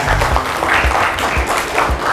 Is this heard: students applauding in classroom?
yes